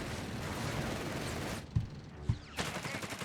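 MG42 and .30 cal machine guns firing in Company of Heroes 3 battle, heard as a fairly faint, dense rattle of automatic fire that thins out, with a few separate thumps and a renewed burst near the end.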